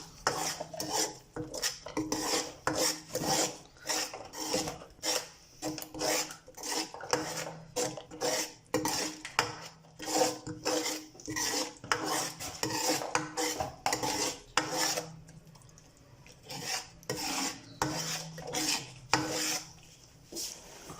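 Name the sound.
mixing spices into yogurt lassi for kadhi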